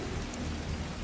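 Heavy rain pours in a video game, a dense, loud, unbroken wash of noise with a low rumble underneath that may be distant thunder, lasting about a second.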